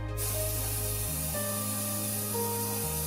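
An airbrush sprays VMS Varnish HD onto a scale model through a 0.4 nozzle at 20 to 30 psi, giving a steady, close, continuous hiss over a low compressor hum that shifts pitch a few times.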